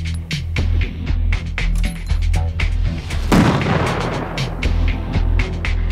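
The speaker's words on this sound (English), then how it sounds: "Then we'll turn the valve, and then we should have a nice explosion down there." A flash bang grenade charge fires in a test setting, a single sharp blast midway standing out among repeated clicks and knocks, loud and close.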